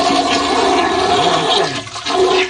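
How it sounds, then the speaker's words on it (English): A toilet flushing loudly up close, with a rushing surge of water that holds steady, dips briefly and then swells again as the bowl refills. "Flush it!"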